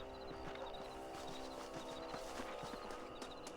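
Horse hooves clip-clop steadily in the video game Red Dead Redemption, a quiet even trotting rhythm over a constant bed of game ambience and music.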